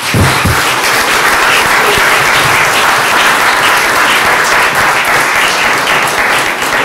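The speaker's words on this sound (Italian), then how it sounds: "un grande applauso alla nostra amata Venezia" Audience applause at a book presentation, a loud, dense and sustained burst of clapping from a full room, close and continuous with no voices on top.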